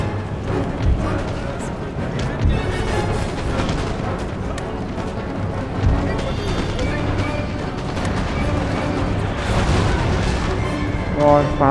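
Artillery cannon fire in the Napoleon Total War battle game, a dense, continuous stretch of booming shots and battle noise with someone talking over it.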